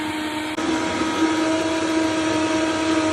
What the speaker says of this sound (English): Just letting it blend for like 30 seconds to a minute on high.